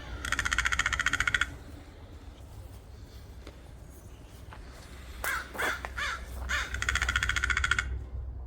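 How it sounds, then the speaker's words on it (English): Crows caw outdoors at a gold-mining spot, bursts of repeated harsh calls at the start and end with scattered single caws between, moderately near over a steady low background rumble. "And them crows are back."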